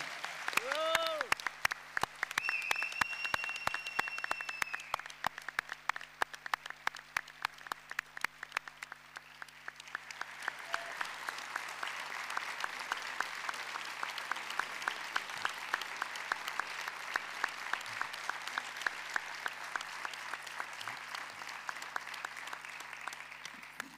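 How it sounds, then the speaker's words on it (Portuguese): Sustained audience applause for Dr. Luís Diamantino at a literary festival panel, Correntes d'Escritas 2025, dense steady clapping filling the whole stretch from the hall with a faint voice early on. "gostava que me acompanhassem numa salva de palmas ao Dr. Luís Diamantino"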